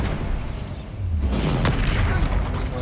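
A Bombarda explosion spell goes off in Hogwarts Legacy, a deep booming blast that swells after a brief lull and rumbles on through the rest of the moment over game noise.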